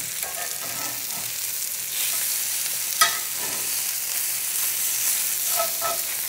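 Mushroom steaks frying in oil, flipped in the pan: a loud, continuous close sizzle with a sharp clack at one point and bursts of spitting, and no talk.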